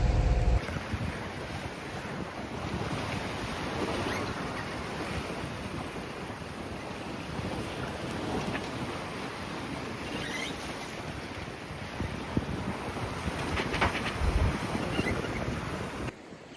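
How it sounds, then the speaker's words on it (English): A sailboat running dead downwind in light breeze on the Mediterranean, with steady broadband wash of water along the hull and wind rushing across the microphone throughout, fairly loud and continuous, no voices. "We are sailing. We have the wind from behind, so we're going dead downwind"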